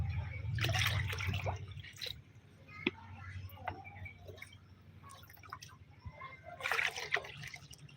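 Water poured from a bucket into a homemade plant fertilizer mix, giving a soft, close splash and trickle that fades into intermittent drips and wet squishing, then a second brief burst of pouring.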